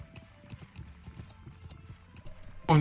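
Horse hooves clip-clop steadily in the medieval game Life is Feudal, a light, even patter of footfalls close by, ending with a sudden loud burst.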